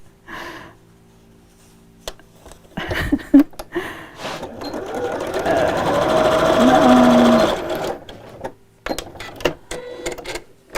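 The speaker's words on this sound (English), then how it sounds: "and sew down there. We're going to do this all the way around." A domestic sewing machine whirs through fabric in one sustained burst of a few seconds, close and fairly loud, with brief handling noises and short bits of talk before and after.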